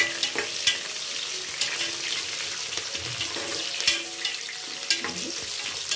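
Chopped onions sizzle in hot oil in a pan for a fenugreek-leaf pulao while a spatula stirs them, making a continuous close frying hiss broken by periodic scraping strokes, with no speech.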